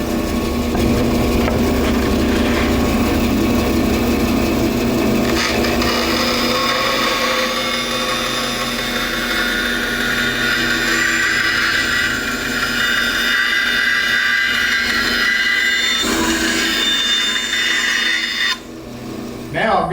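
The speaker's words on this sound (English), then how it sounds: "Now, I'm going to cut the bulk of that corner off using the bandsaw." A bandsaw cuts the corner off a wooden table, giving a steady mechanical hum with a rising, rasping whine as the blade bites into the wood, close and sustained for the full stretch before winding down.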